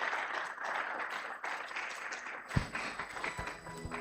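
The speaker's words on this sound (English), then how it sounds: "A bigger round of applause" An audience applauding at the launch of a national schools championship, a soft sustained patter of many hands clapping from a distance, thinning toward the end with a few sharper knocks.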